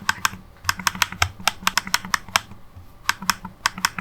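The glass-topped trackpad of a Lenovo Yoga 7i laptop clicks in quick, uneven bursts, each click crisp, close and tactile, with brief pauses between runs and no talking.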